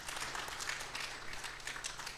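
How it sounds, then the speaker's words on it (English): Faint, steady applause from a conference audience at a university funding event in Kenya, heard over a low room hum throughout. "Let's clap for him, please."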